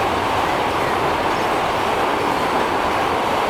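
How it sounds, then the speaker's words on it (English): A train passing by in the video game Transport Fever 2, heard as a steady, loud rumbling roar of rolling rail cars with faint clatter, continuous throughout and without talk. "Let's watch the train go by."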